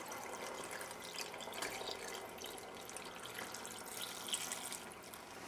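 Water running steadily from a tap into a pot for romaine lettuce soup, a continuous close splashing rush with no talk.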